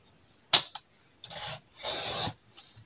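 Scissors cutting through card paper while making a handmade grandfathers' day card, a sharp snip followed by two longer rasping cuts, close and alone.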